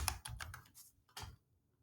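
Keys clack on a computer keyboard in a short burst of about six quick, close taps, with a last pair of strokes before the sound stops; no one talks.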